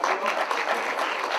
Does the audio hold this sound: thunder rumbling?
no